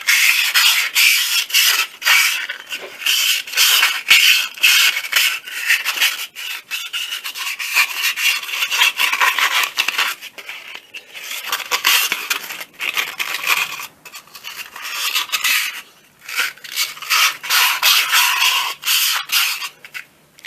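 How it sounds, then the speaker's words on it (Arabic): Fine sandpaper rubbed over an air compressor cylinder during repair, loud close rasping strokes in a fast repeated rhythm with brief pauses, no speech. "صنفر على خفيف."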